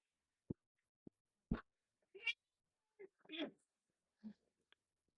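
A pet cat gives a few short, soft meows and chirps close by, scattered with small pauses in an otherwise quiet room.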